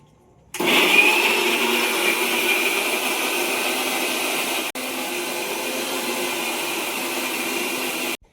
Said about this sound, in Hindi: मिक्सी लगा दिया हूँ मैंने, पीस दो